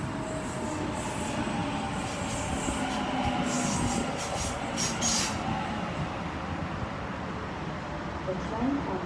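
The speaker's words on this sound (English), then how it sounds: "The train on platform 2 goes to Barawa only." A commuter train passes through Mount Ku-ring-gai station, a steady rumbling roar with some metallic high-pitched rail noise, heard alone at moderate distance.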